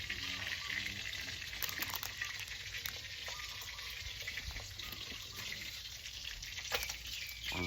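Snakehead fish frying in hot oil, a steady loud sizzle and crackle that runs throughout with small pops, no talking.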